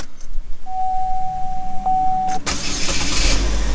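A steady electronic tone sounds, then a 2.4-liter four-cylinder car engine with a custom AEM intake cranks and catches with a sudden roar, settling into a loud running rumble close by.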